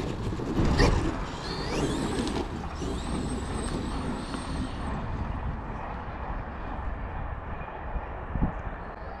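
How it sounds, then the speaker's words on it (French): Mechanical clicking and handling noises as batteries are swapped in a Traxxas XRT RC truck fitted with Sledgehammer tires, with a short burst of whirring near the start and steady close fiddling that fades toward the end, no talk. "on va juste changer les batteries et on repart"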